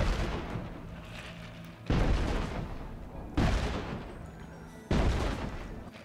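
Cannons fire at a ship in the SpongeBob Battle for Bikini Bottom Rehydrated video game: three heavy, booming shots land about a second and a half apart over a steady rumbling background, with no talking.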